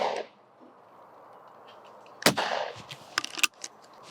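A 20 bore shotgun, a 30-inch Yildiz Pro, fired at clays: after a quiet stretch comes one sharp, close shot, then a few metallic clicks and clatters from the gun.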